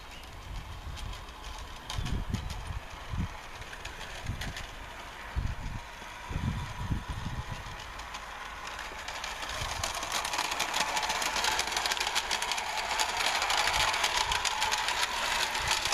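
A Roundhouse Little John model locomotive, a three-link coupled train, running a full circuit outdoors. It gives a steady mechanical chuffing hum with some low knocks, and the sound grows slightly louder and brighter toward the end. No talk is heard.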